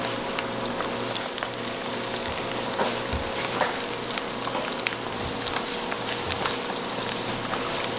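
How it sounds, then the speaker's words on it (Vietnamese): Pastry dough fries in hot oil until its outer shell puffs up crisp, giving a steady, dense sizzle and crackle with scattered popping bubbles throughout, close and continuous, with no talking. "Khi chiên phần vỏ bánh bên ngoài phồng lên giòn rụm"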